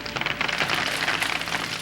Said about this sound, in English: Rock-hard balls of ice hammering down on the earth.